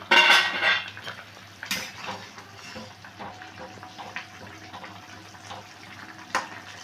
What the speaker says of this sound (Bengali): আমি এবার ঢাকনাটা একটু সরিয়ে দেখছি কতটা সেদ্ধ হলো।